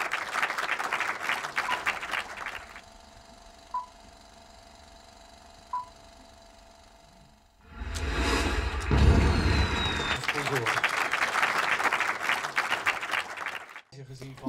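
Loud applause as the mayor opens the first edition of a film festival in Hilversum, heard in two bursts, at the start and again toward the end, separated by a quieter stretch and a rumbling, engine-like noise.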